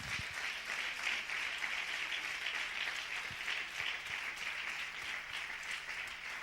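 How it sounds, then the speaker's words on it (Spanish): A church congregation claps loudly and steadily in praise during a sermon, a dense even wash of applause running throughout with no voices on top. "Da un aplauso bien fuerte al Señor"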